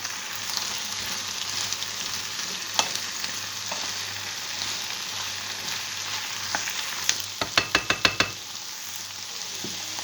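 A tomato and meat dish sizzles softly in a pan while a utensil stirs it, with a quick run of sharp scraping taps near the end.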